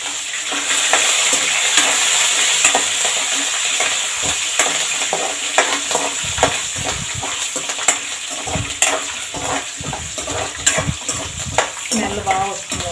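Curry leaves crackle and sizzle in hot oil in a pan while making wheat rava upma, with loud bursts of spitting and stirring scrapes, fading to lighter sizzling.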